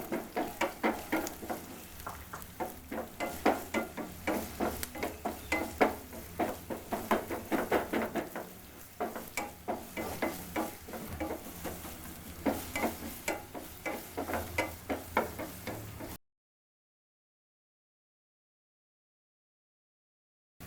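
Onion and chilli frying in a pan for a masala omelette, a steady close sizzle with rhythmic stirring scrapes for about sixteen seconds, then silence.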